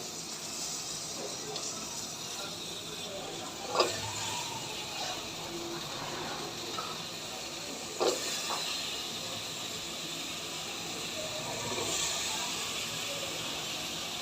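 Potatoes and Malabar spinach stalks fry in a pan with a steady, close sizzling hiss, broken by a few brief clinks and stirring scrapes around the four- and eight-second marks.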